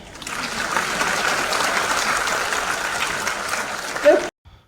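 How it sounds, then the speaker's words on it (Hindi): Dense, steady applause from a large audience at a university convocation event, sustained loudly for about four seconds before stopping abruptly, with a brief voice just before it ends. "तालियां नहीं बजाएंगे।"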